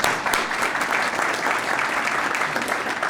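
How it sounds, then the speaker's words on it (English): An indoor audience at a ribbon cutting claps in a dense, even burst of applause that holds steady and loud throughout. "I want to give them a big round of applause."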